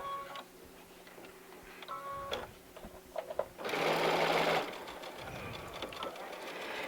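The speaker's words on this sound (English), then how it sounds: "And then I go from the other direction and sew right up to the knot." A sewing machine stitches fabric up to a knot in quick rapid bursts, close and clear, with short pauses between runs of rhythmic ticking needle strokes.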